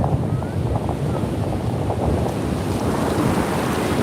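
Ocean surf rolls in at Montara State Beach in California as a continuous wash of breaking waves, buffeted by heavy wind rumble on the microphone.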